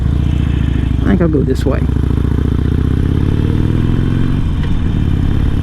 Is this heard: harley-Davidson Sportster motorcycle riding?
yes